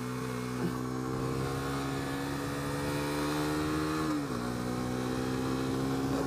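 A Suzuki GSX-S125 motorcycle engine drones at steady revs while riding, a continuous buzzing hum that dips slightly in pitch near the end, with wind rush and no talking.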